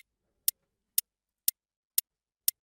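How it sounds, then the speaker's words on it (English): Soloed dry hi-hat ticks five times at an even half-second pulse, each hit a short, crisp, high metallic click against silence. "So before our effects, it sounds like this. I'll solo the hi-hat for you guys."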